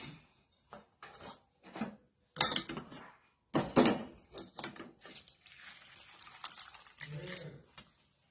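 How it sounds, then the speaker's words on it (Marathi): Water is drained from a pot of cooked ambadi (sorrel) leaves, with a series of short clanks, scrapes and splashes of pouring liquid that come in separate bursts with brief pauses between. "आता हे पाणी पहिलं आपण काढून घेऊया"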